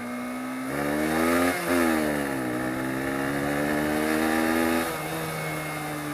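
A Honda CBR125 motorcycle accelerates through several gears, its high buzzing engine note climbing, dropping briefly at each shift and climbing again. The rider hears it up close and fairly loud, and no one talks.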